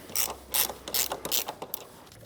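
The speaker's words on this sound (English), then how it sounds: "I'm just using this socket because I have it out already, but it's just a regular 17mm socket." A ratchet wrench with a 17mm socket clicks in four quick bursts on the front strut bolts of a 2003-2007 Mercedes-Benz W203 C-Class, close and crisp, with no talk.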